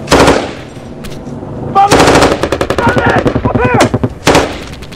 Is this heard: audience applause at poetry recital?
no